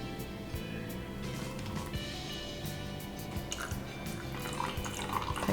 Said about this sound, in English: I'm putting in 40 grams of hot water